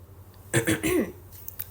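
A short cough, a couple of quick bursts close by, then quiet.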